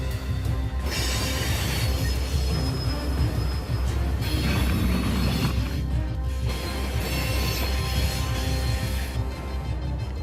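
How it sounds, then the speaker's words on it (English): Freight train working down a Rocky Mountain grade with brakes applied, steel wheels squealing loudly and continuously over a heavy rumble of rolling cars, the shriek rising and falling throughout. "Right now, I'm just conditioning the brakes, getting them ready to go down the hill."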